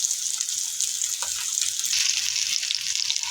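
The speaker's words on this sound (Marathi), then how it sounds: "आपल्याला पापलेट हा मंद आचेवरती फ्राय करायचा आहे." Pomfret fish frying in hot oil over a low flame, a steady close crackle and sizzle that runs on without a break.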